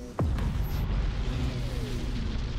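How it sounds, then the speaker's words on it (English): An Ork cruiser blowing up in a multiplayer strategy game: a sudden deep boom followed by a sustained rumbling, crackling roar that stays loud to the end. "I lost my cruiser because of that damn explosion"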